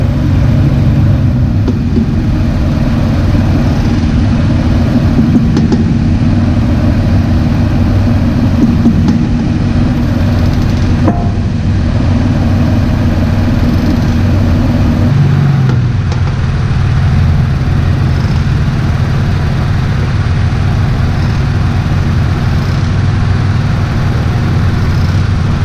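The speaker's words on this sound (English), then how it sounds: "I think I have an issue with my driver's side CV axle" Continuous loud drivetrain and engine drone from a lifted Toyota Tacoma driving with a faulty driver's side CV axle, a low steady rumble with faint recurring knocks, heard close under the truck with no talk.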